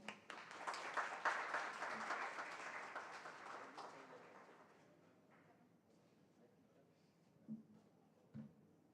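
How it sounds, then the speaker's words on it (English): A large audience at the Samavesha 16 event breaks into dense, loud clapping that holds for about four seconds, then thins and fades into quieter room noise with a couple of isolated thumps. "Let's have a big round of applause for Dr. Mukherjee."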